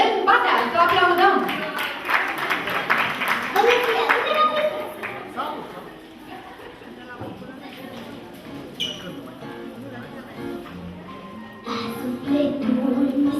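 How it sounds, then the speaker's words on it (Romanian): Audience applause at a Romanian music festival breaks out loudly at the start, then thins into lighter scattered clapping and returns near the end, with talk and crowd noise mixed in. "Să o aplaudăm!"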